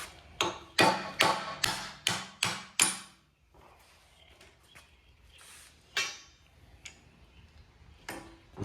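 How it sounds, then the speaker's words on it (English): A brass hammer strikes metal in a workshop: seven sharp, evenly spaced taps in quick succession, then quieter scattered knocks and clicks with longer gaps between them. "Brass hammer."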